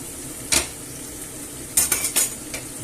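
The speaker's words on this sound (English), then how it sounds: "I'll give it a mix." Clams and hake noodles in fish broth being stirred in a pan, heard as a few sharp utensil scrapes and clinks, one alone and then a quick cluster, over a low, steady background hiss.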